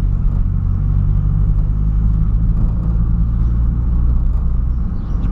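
A Ford Ka car engine runs with a loud, steady, deep rumble for the whole stretch, holding an even drone with no clear rise in revs and no voices.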